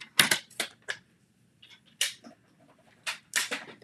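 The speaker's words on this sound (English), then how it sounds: "But since the trimmer is right here, I used it." A paper trimmer cuts through paper in a series of quick, crisp clicks and slicing swipes, close and alone, irregularly spaced with short pauses between strokes.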